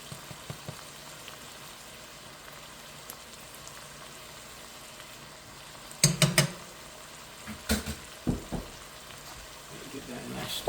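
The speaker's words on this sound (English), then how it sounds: "Give that a nice stir now. Let's get that coated in there. Get that flour incorporated." Ground beef stew with about a tablespoon and a half of flour sprinkled in, stirred and cooked in the pot: a low steady sizzle, then a cluster of scraping, clattering stirs in the second half.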